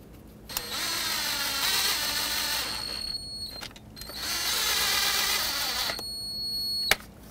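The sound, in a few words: ratchet bolting a new ignition coil back on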